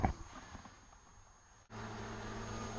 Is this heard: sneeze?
no